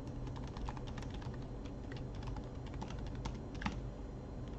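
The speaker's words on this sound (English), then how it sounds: "You can also type your email." Computer keyboard typing, quick irregular clicks of keys pressed in short bursts, close and fairly soft over a faint steady background hum.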